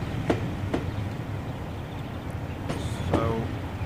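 Steady low rumble of rolling Mk1 train coaches in Train Simulator 2020, with a few sharp clicks and clatters from the wheels over rail joints.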